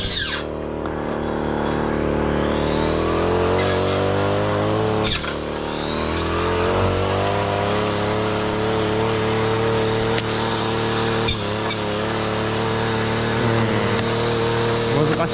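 A brush cutter fitted with a new bamboo blade cuts fallen bamboo blocking an abandoned farm road on an embankment. The engine whines loud and close, its pitch climbing under load, with brief dips in revs around each cut.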